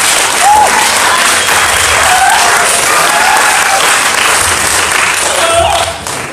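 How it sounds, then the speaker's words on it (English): A crowd at a gospel release concert claps in praise, a loud, dense and sustained roar of hands with some scattered cheers and whoops, fading slightly at the very end. "give God a hand clap of praise."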